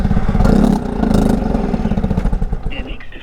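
A Honda Africa Twin motorcycle engine fires up after a cold no-start, a loud close rumble with a rapid clattering idle pulse that settles, and a brief voice near the end.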